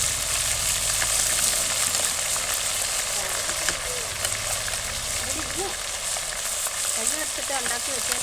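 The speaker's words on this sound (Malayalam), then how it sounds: "അപ്പോൾ നമ്മൾ ഇഞ്ചിയും വെളുത്തുള്ളിയും ചതച്ചാൽ ഇട്ട് കൊടുക്കുകയാണ്" Crushed ginger and garlic frying with mustard seeds in hot oil for a Kerala curry, giving a steady, close sizzle and crackle throughout while a person talks over it.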